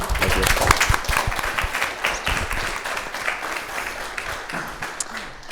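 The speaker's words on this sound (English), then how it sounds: "another round of applause for Julian" Sustained audience applause for a student presenter at a startup idea competition, dense and lively at first, then gradually thinning and softening.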